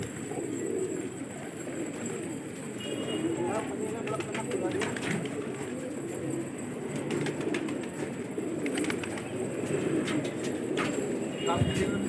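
Pigeons cooing at a rooftop loft with a large flock: soft, low, throaty coos layered under a steady outdoor wash, with occasional wing flutters and faint voices in the background.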